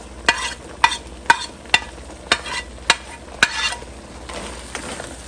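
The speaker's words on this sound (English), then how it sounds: "Once it's boiling, we are ready to add the onion." Stirring and frying in a pan of boiling sauce for Mongolian ground beef with onion added: a run of sharp, evenly spaced scrapes or taps over a steady low sizzle, fading into softer bubbling at the end.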